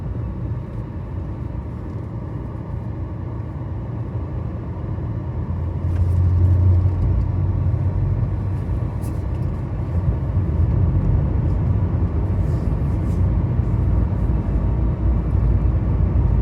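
A vehicle on a narrow hill road passes close by. A steady low engine rumble swells noticeably about six seconds in and stays loud to the end, heard from a stopped position.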